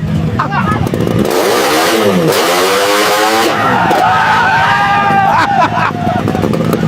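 A motorcycle fitted with a 01 Moto exhaust pipe revs in a rising and falling sweep, loud and close, over a steady background of crowd babble.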